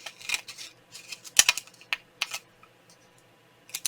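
Scissors trimming a small piece of paper scrap for a Christmas gift card tag: a rapid run of crisp close snips and clicks, busy at first and then tapering off, heard alone without talk.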